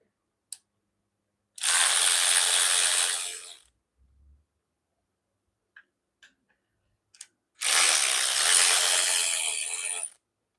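A ratchet working a bolt loose on a Jeep engine during camshaft removal, heard as two sustained bursts of rapid clicking with brief faint knocks between them in an otherwise quiet space.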